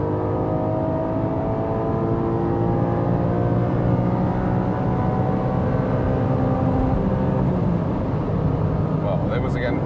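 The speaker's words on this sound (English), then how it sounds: "On the rev limiter and high up." A Porsche 718 GTS 4.0 with a naturally aspirated flat-six and manual gearbox, driven hard on a race track and held on the rev limiter, gives a steady, loud, sustained engine drone with layered harmonics for ten seconds.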